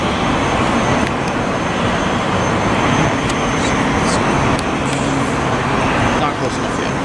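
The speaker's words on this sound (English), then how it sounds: "here comes another inbound flight coming into San Diego" A passenger airplane flies inbound toward San Diego with a steady, broad jet roar that fills the air, mixed with nearby road traffic and people talking over it.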